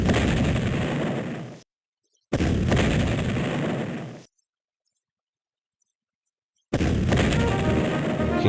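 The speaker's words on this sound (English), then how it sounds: "focus our artillery fire on the flanks" Artillery cannon fire in a Civil War strategy video game, heavy booming barrages in three long loud bursts separated by abrupt silent gaps, with no talking.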